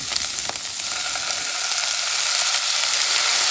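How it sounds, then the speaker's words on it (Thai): Food stir-fried in a pan until dry gives a steady, close hiss and sizzle with a faint scrape near the start, and no voices. "เราจะผัดให้มันแห้งๆเลย"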